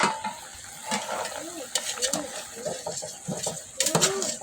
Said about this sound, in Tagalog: Ayan, kumukulo na guys.